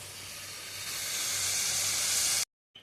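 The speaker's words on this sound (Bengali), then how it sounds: "চলো মশলাটা ভালো করে কষাই ঝোলটা হোক" A spice mixture being sautéed in a pan, a steady close hissing sizzle that swells and then cuts off abruptly.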